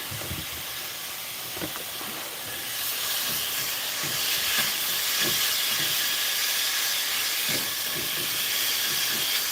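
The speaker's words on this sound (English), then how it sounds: "I like to put one of these spatter screens on top when I'm cooking bacon because it tends to go everywhere" Bacon sizzles and crisps in a pan under a spatter screen, a steady close hiss and crackle that grows louder after a few seconds, with scattered soft pops and knocks and no speech.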